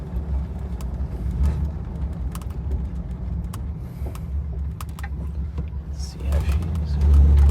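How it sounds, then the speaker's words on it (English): A 1961 Buick freshly fitted with a new Edelbrock carburetor drives along, its low engine rumble steady throughout and swelling louder near the end as it accelerates, with someone speaking briefly over it. "going for our first drive after putting on the carb and doing some light adjustments."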